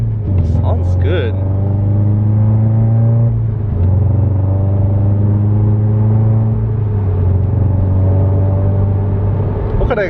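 A widebody Subaru BRZ engine rumbles steadily close by with a deep, throaty aftermarket exhaust note, briefly rising in pitch as it revs, while someone talks over it.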